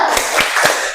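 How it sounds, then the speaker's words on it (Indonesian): A class of children doing the rhythmic tepuk semangat spirit clap, three broad clap bursts spaced evenly over a second, fairly loud and near, with no talk over them. "Ayo kita tepuk semangat"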